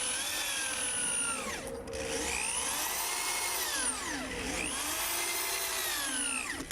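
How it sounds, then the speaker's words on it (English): Power drill driving deck screws into a wooden raised garden bed, a loud close whine that rises and falls through repeated speed sweeps as each screw bites into the wood. "pre-drilled and countersunk holes, and attached them to the bed with deck screws."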